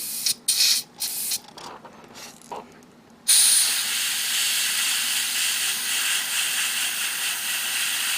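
Short bursts of spray paint in the first few seconds, then a steady, loud hiss that runs on unbroken to the end, like an aerosol can held down, painting a 1/100 MG Freedom Gundam model kit.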